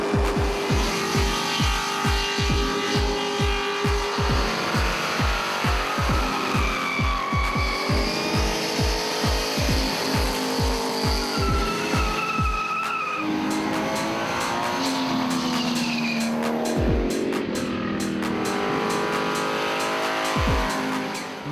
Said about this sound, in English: The whole idea is to perform a rolling burnout for the longest distance possible without